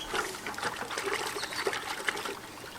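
Steady trickling and gentle splashing of water as spring onion seedlings are separated by hand in a bucket of water, close and continuous with small sloshes throughout.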